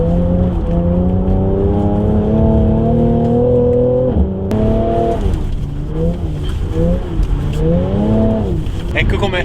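A Mercedes-AMG car engine drones loudly and steadily while entering a racetrack, then revs up and down through gear changes, heard close from inside the vehicle.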